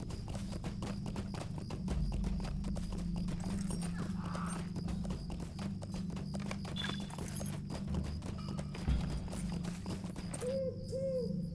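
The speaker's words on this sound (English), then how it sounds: "we can at least take one of the travel points and hire a horse to take us closer." A hired horse in a Lord of the Rings video game clip-clops in a steady, continuous trot, loud and close, over a constant ambient bed with occasional owl-like hoots.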